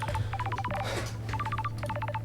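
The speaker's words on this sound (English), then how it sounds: "A phone call from Judge is unexpected." A phone rings in the video game Paradise Killer as an electronic ring of rapid, evenly spaced short chirping beeps in two quick bursts. A low steady hum of background music runs underneath.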